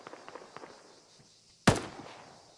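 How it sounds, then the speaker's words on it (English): Gunfire in a military video game during a realism-unit platoon training session: faint scattered distant pops, then one sharp, loud nearby shot that cracks and echoes briefly before fading. "We're shooting right over your head, trying to engage them."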